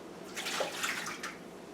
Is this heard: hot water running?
yes